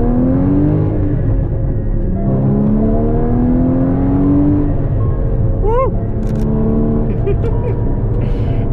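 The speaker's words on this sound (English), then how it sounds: "Honestly, I had no idea I'd be driving a GT4 at any point today." A Porsche Cayman GT4 engine accelerating, heard from the cabin as a loud, rising rev that climbs and shifts with sweeping tones, then settles, over a constant road rumble.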